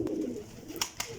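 Paired flying pigeons coo softly and low at first, then the cooing fades while a few sharp clicks and taps break through near the end.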